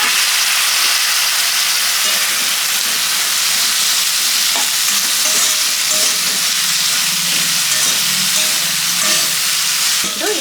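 Cauliflower pieces with ginger garlic paste sizzle loudly in a hot pan, a steady dense frying hiss with occasional scraping stirs, close up and with no voices.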